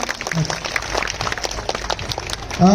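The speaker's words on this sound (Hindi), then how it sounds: "एक बार उस बच्ची के लिए भी ताली बजा दीजिए सभी लोग" At a school annual day celebration, an audience applauds a prize-winning girl, with dense, fairly loud clapping of many hands running through the moment, with a voice cutting in at the end.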